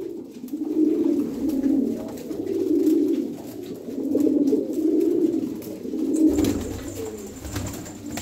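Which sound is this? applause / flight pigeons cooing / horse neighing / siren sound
flight pigeons cooing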